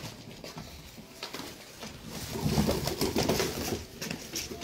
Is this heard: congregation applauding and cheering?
no